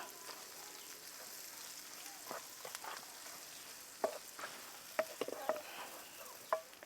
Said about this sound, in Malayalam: ഇനി ഇതൊന്ന് ഇളക്കി ഉള്ളിയൊക്കെ നമുക്കൊന്ന് മൂപ്പിച്ചെടുക്കാം